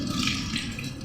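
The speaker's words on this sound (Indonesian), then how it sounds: "Kemudian bilas menggunakan air mengalir," Hands rinsed under a running tap during a handwashing routine: a steady, close hiss of flowing water splashing over skin, holding for about a second without pause or speech.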